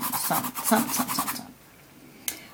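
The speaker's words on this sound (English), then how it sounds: "just go back into your original color and scrub that there over the moon, sun" Paintbrush scrubbing acrylic paint across a canvas while painting an ocean sunset sky, a rapid dry bristly rasping that runs for about a second and a half, then quiet and one brief scrape.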